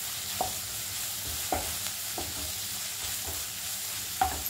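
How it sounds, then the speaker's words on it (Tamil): Ginger garlic paste sautés in a pan for a mushroom and potato pepper masala, giving a steady sizzle with a few sharp stirring scrapes spaced through it, close and alone. "இதுவும் நல்லா வதங்கணும், பச்சை வாசனை போகிற அளவுக்கு வதக்கிக்கோங்க"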